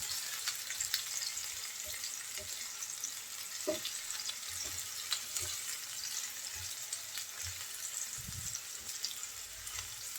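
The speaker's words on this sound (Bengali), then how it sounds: "দুই মিনিটের মতো করলাটা ভেজে নেব" Bitter gourd frying in oil with two bay leaves, a soft even sizzle close by with occasional faint clinks and low knocks of stirring, quiet and without speech.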